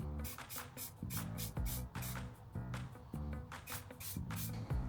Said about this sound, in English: I'm going to spray paint this black first so that it blends in a bit more